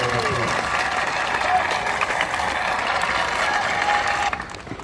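A crowd applauds steadily for the youth members of Panyard at an evening steelpan festival, dense clapping filling the hall for several seconds before tapering off near the end.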